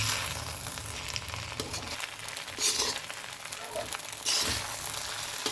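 Vegetable noodles fry in a pan with a steady, close hiss and crackle, a few louder bursts of sizzle rising briefly over the constant bed of frying noise.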